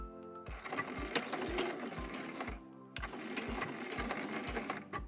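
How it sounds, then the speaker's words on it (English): A sewing machine stitches over a tote bag strap in two rhythmic runs of fast thumping needle strokes, broken by a short pause near the middle. The sound is close and has no talk over it. "So I'm going to sew over it and then back stitch."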